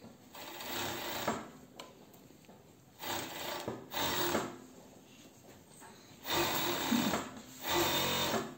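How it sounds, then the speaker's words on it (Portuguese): An overlock sewing machine stitches a seam in short loud bursts of rapid whirring, separated by quieter pauses of fabric handling, close by. "agora a gente vai estar passando a overlock"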